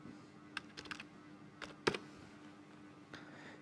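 Short bursts of keyboard typing as a name is entered for a Facebook account recovery, a few soft irregular clicks with one sharper keystroke, close and quiet, with no speech.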